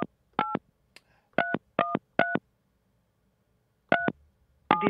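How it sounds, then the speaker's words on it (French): Telephone keypad tones beep in quick bursts as a number is dialled, six or seven crisp touch-tones with a pause before the last pair, alone and clear. "On va aller au téléphone, on va les appeler."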